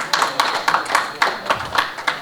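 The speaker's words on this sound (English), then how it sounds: "Let's have a huge round of applause for both of them." A panel discussion audience greets two banking guests with a few loud, close claps in a quick, regular rhythm, thin rather than a full crowd roar.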